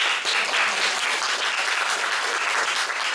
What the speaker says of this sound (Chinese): 那可不可以请大家再用热烈的掌声感谢？